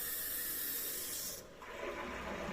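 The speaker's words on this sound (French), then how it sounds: "J'ouvre l'eau." Water rushes through a tap into a water heater tank being filled, a steady hiss that drops in pitch and eases partway through before running on, moderately quiet and close, with no speech.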